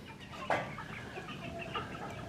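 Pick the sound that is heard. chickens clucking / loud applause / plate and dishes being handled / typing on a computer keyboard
chickens clucking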